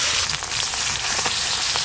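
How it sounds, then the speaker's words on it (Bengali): Hilsa fish and its roe frying in oil on a village clay stove, a loud, dense, close hiss and crackle filling the whole short stretch without voices. "এই যে ইলিশ মাছের ডিমগুলো মাছের সঙ্গে ভাজা হচ্ছে"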